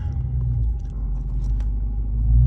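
A supercharged Chrysler car engine rumbles steadily at idle, a deep, loud low-end drone that swells slightly toward the end.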